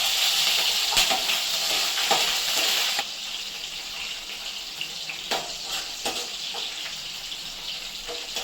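Green chilies and garlic fry in oil in a pan for sambar, a bright continuous sizzle that is louder at first and then settles into a softer hiss with faint crackles.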